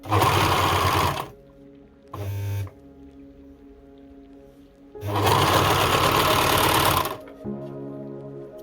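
Overlock sewing machine stitching the sides of baby pants, running in two loud bursts of steady whirring with a brief short run between them, quiet hum in the pauses.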